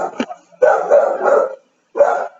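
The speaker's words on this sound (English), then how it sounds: "Okay, sorry for my dog." A pet dog barks in a few short bursts indoors, close and fairly loud, with a brief gap before a final bark; no one speaks over it.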